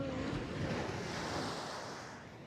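Steady wash of sea waves breaking at a beach, a continuous broadband surf roar with wind noise on the microphone, fairly loud and fading slightly toward the end.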